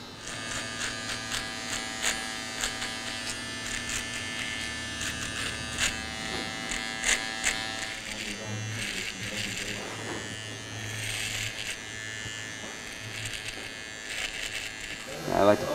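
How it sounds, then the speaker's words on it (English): An electric hair clipper trims a man's beard, a steady close buzzing drone throughout that shifts in pitch as it moves across the face, with talk over it. "I like to put the heel of the clipper along my face"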